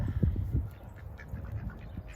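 A young duck or goose gives a few short, low quacking calls early on, close by, then fades into a soft outdoor hush with no talking.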